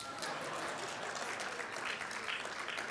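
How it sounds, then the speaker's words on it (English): Audience applause at a mining skills conference and annual general meeting, a steady wash of clapping filling the whole stretch at moderate level with no clear pauses. "I thought you would clap your hands."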